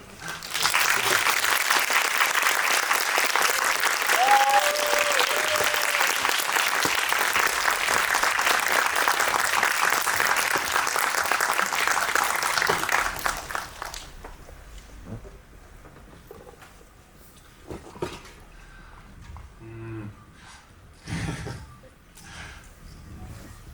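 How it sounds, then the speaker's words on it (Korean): Hot applause from a film festival audience welcoming a director and an actress to a post-screening talk, loud and sustained for about thirteen seconds before it fades into scattered claps and room noise. "뜨거운 박수로 부탁드립니다."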